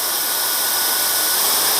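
A hair dryer sold as a cheaper alternative to the Dyson Supersonic blows a loud, steady rush of air close by, with a faint motor whine beneath the hiss.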